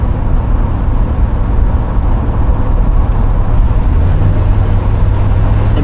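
1986 Chevrolet Monte Carlo SS with a 305 V8 pulling steadily at half throttle, a loud continuous low engine rumble that holds for several seconds, rising slightly in pitch near the end.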